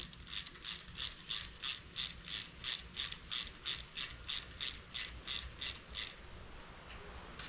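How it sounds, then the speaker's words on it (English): A ratchet clicks in repeated pulls while torquing down the cylinder head bolts on an SRT4 engine build, about seventeen even bursts of clicking, close by and fairly quiet. The last few seconds fall silent. "I'm going to finish getting these things torqued down"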